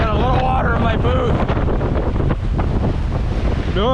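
Ocean waves wash onto a shore under loud, buffeting wind noise on the microphone, a continuous rough roar, with a person's voice and exclamations cutting through at moments.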